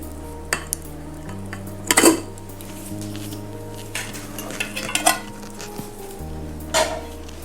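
A plate of pizza is set into a saucepan on a stand, giving scattered metallic clinks and scrapes over a low steady hum, with one sharper clatter near the start.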